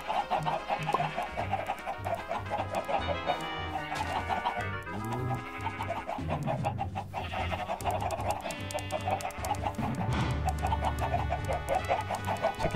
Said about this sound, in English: Chicken swarm, anyone?